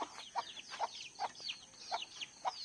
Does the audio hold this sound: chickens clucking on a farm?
yes